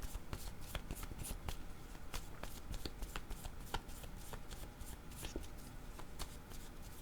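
Tarot cards are shuffled in a steady stream of crisp, quick riffling snaps, close and fairly quiet, continuing without pause.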